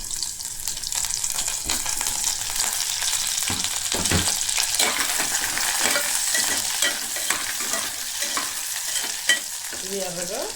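Onions and green chillies fry in a pan of oil for vegetable pulao, giving a steady close sizzle broken by scraping stirs of a spoon, with no one speaking.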